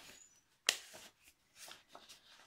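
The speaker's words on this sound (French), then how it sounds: "je vais glisser les cartes qui allaient avec les enveloppes" Paper cards slipping into double envelopes for a handmade mini album, a sharp papery slide followed by softer rustles and light handling sounds, close and alone.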